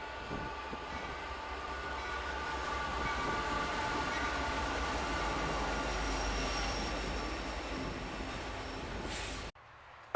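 A Norfolk Southern intermodal freight train, Chicago to New Jersey, rolls past on the Pittsburgh Line with a loud, sustained rumble and steady wheel noise, cars clattering by continuously until the sound abruptly drops away near the end.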